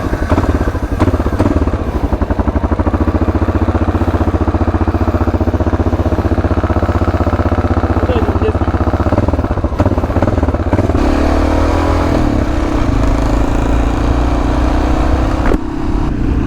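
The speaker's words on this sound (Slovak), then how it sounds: "Ja teraz sedlám jeho dominátorku" Honda Dominator motorcycle engine heard while riding on a motorcycle trip in Poland, a loud, close, continuous engine roar with shifting revs and a gear change partway through, with no talk.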